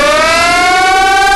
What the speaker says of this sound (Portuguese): Que trem doido de sirene é esse